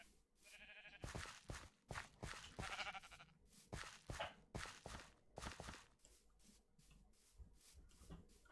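Sheep in the SevTech Ages Minecraft modpack. Short bleats sound among steady, fairly loud footsteps. The whole scene is quiet and close, with no talk.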